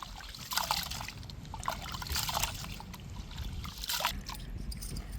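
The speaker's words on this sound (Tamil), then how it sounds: "பாசுமதி அரிசி எடுத்துருக்கோம், 2 கிலோ. இப்போ களைஞ்சி வச்சுக்கிடுவோம்." Two kilograms of basmati rice are swished and rinsed in water by hand, giving soft, close trickling and sloshing in uneven bursts, with quiet background noise.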